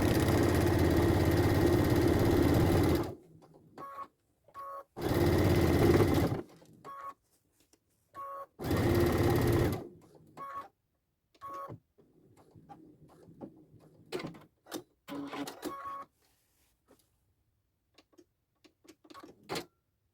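A sewing machine runs in several short, loud bursts of a few seconds each, stitching the side seam of a lined fabric pouch, with quieter handling clicks and fabric shuffling in the pauses between runs.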